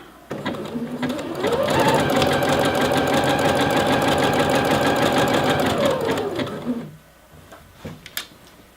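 A sewing machine stitches elastic onto waistband fabric in one steady, loud run lasting several seconds, then stops, followed by a few light handling clicks.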